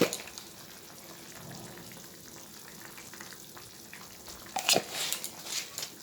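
Garam masala and ghee go into simmering chana dal (split Bengal gram) in a vegetarian Bengali home dish, with lentil fritters added; a low, steady sizzle with brief louder crackles toward the end, no talking.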